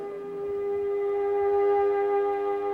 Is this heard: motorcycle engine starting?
no